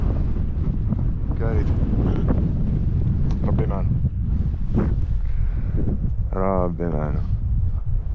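Strong headwind buffets the microphone of a cyclist riding around Algeria, a loud continuous low rumble of wind noise under a man's intermittent speech.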